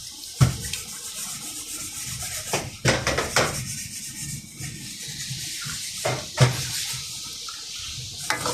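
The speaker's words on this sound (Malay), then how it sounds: "Kita masukkan air asam jawa." Tamarind water poured into a simmering catfish curry made without coconut milk: a soft continuous watery pour with scattered clinks and knocks from the pot and utensils, moderately close.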